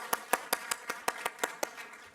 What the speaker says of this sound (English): please give a big round of applause for all these people.